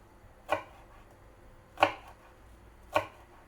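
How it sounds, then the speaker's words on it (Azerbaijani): Three separate knife chops through green onion land at an even, unhurried pace on a cutting board. Each is a sharp, close thud in a quiet kitchen, with no talking. "Sonra göy soğanı qəşəng doğrayırıq."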